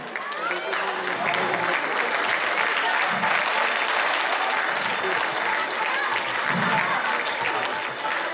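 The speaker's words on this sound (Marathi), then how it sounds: "आपण प्रत्येकाने जोरदार टाळ्या वाजवल्याच पाहिजे" Steady, dense applause from a crowd at a Maharashtra Day event, loud and sustained throughout with no pauses.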